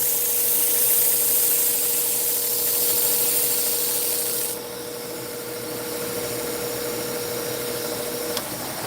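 A knife blade drawn lightly across a 3000 grit Naniwa diamond sharpening stone, a steady continuous abrasive hiss close by. The tone drops slightly partway through, with no talk.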